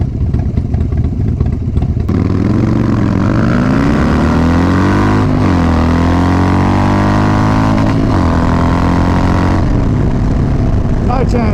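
A Harley-Davidson Wide Glide FXDWG with a 200 rear tyre rides through traffic, its engine a loud close rumble under heavy wind noise, rising and falling in pitch through several gear changes and throttle shifts.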